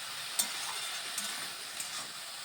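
Mustard flowers fry in a pan with a steady soft sizzle and hiss, punctuated by a few faint stirring clicks, quiet and close with no talk.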